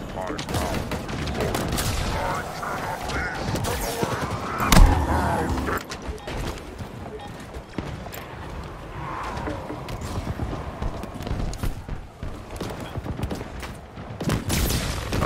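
Gunfire in the video game Halo during a co-op match, a dense crackle of shots with a heavy thump near the middle, running steadily under chatter from several players.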